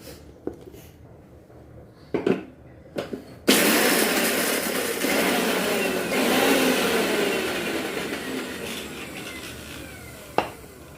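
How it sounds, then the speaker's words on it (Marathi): A mixer grinder coarsely grinding ingredients for kothimbir vadi, first starting in a few short bursts, then running loudly and steadily with a harsh whirring roar before one last brief pulse. "थोडंसं भरड मोठं मोठं वाटून घ्यायचंय, एकदम फाईन अजिबात नाही करायचंय"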